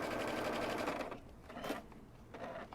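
Sewing machine stitching the corner of a kimono robe: a fast, steady motor buzz that stops partway through, then short bursts of needle stitching separated by pauses, close and fairly quiet.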